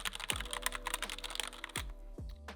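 Rapid typing on a quieter budget mechanical keyboard, a close, steady patter of soft key clicks with a few heavier thumps mixed in, alone without speech.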